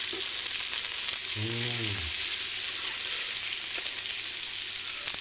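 Steady, dense sizzle of beef liver frying in a hot pan, close and continuous, with a brief rising-and-falling tonal whine partway through.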